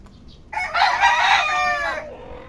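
A rooster crows once, loud and close, a long harmonic call lasting over a second, with faint farmyard background around it.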